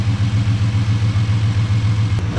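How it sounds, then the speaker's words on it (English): A 2008 Ford Mustang 4.0 V6 idles steadily, its exhaust routed through a length of clear hose, giving a loud, even low rumble with a regular pulsing beat and no talking. "it actually is idling fine, even though it's running through all this hose"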